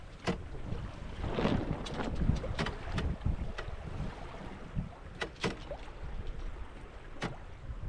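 A small Seawych sailboat, Red Admiral, sails against the tide off the Cornish coast near Falmouth, with steady wind buffeting the microphone, water rushing along the hull and scattered sharp knocks and creaks from the rigging and tiller, no talking.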